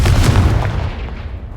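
A Confringo blasting spell explodes in the Hogwarts Legacy video game, a loud, heavy boom with rumbling low end that fills the moment and then slowly decays.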